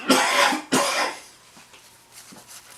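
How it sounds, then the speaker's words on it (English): A person's chest cough from a chest virus: two harsh, loud bursts close together near the start, followed by quieter rough throat-clearing sounds trailing off, close to the mic with no talk. "I'm getting a cough. Like a chest cough, chest virus"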